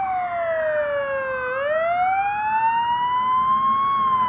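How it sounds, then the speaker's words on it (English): A police siren effect layered into a music track, a single loud wailing tone that sweeps down and then climbs back up, steady and close with no talk. "I added police sirens,"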